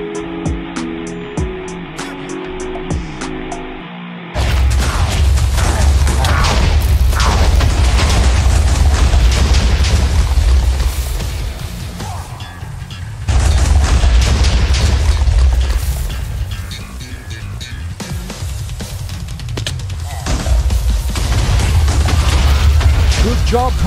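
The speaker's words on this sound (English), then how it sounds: "Bombs away." Bombs dropping and exploding in an animated movie, heavy rumbling booms and blasts that swell in long loud waves after a quiet opening of music, with voices briefly heard among the explosions.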